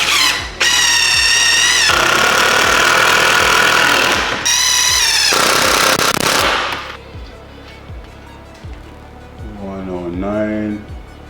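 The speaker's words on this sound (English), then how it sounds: "Put a few screws in here now." A power driver runs screws into a wall in several long, loud whirring bursts that rise and fall in pitch, followed by quieter handling noises and a brief squeal near the end.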